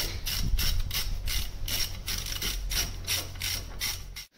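A rear gearbox mount is bolted to the floor of an A-reg Vauxhall Nova, giving a steady rhythmic ratcheting and rubbing of a hand tool turning bolts in quick repeated strokes, close and moderately loud, with no talking.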